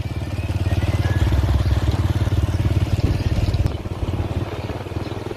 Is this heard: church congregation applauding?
no